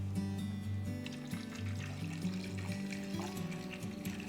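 Black and white film developer poured into a film developing tank, a faint trickling liquid pour beneath a louder tonal background.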